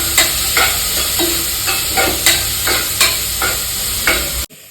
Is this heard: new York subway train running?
no